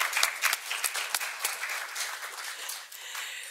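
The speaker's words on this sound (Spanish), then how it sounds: "Un aplauso para el traductor." Applause for the translator at a lecture, a crowd of hands clapping steadily with a few sharper claps standing out near the start, fairly close and sustained before thinning slightly.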